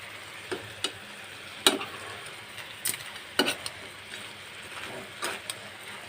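Crab fry being stirred with chilli powder, garam masala and chicken masala in a pan: soft scraping and faint sizzling with a few sharper spoon knocks spread irregularly, fairly quiet and close, no voices.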